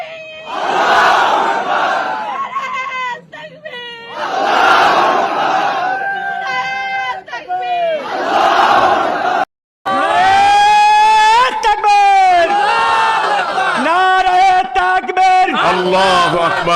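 A large crowd chanting the Allahu Akbar slogan in loud rhythmic unison, several swelling repeated calls close and powerful, with a lead voice shouting between them.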